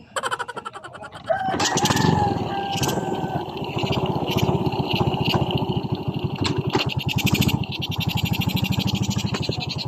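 A Yamaha Vega 115 carbureted motorcycle kickstarted into a steady idling chug after stalling, its engine putting rhythmically and close by, with a rooster crowing loudly over it.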